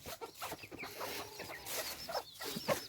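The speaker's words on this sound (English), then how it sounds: "Those are the baby silky chicks." Small Silkie chicks clucking and peeping inside a coop on an early winter morning, with several soft, scattered calls coming close together at a moderate distance.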